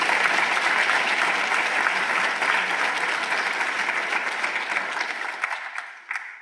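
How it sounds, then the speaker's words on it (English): At a university lecture, an audience claps steadily for Murtis Spencer, a full dense round of applause that holds for several seconds and then thins out and fades near the end. "let's applaud her anyway"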